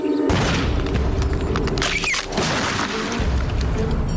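A cartoon cannon fires during a team game in an animated reality-competition episode, a loud booming blast with crackling mechanical noise filling the moment, with no voices.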